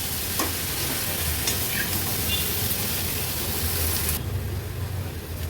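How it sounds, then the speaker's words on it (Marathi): Vegetables, carrots among them, are stirred into masala in a pan, giving a steady close sizzle and frying hiss with soft scraping of the stirring, continuous throughout. "आता या सर्व भाज्या व्यवस्थित आपल्याला मसाल्यामध्ये मिक्स करून घ्यायचे आहेत"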